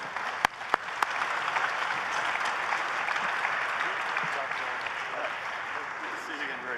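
A conference audience at the Ukraine Recovery Conference applauds after a panel, with steady, moderately loud clapping from a large crowd that holds evenly throughout, opened by a few sharp individual claps.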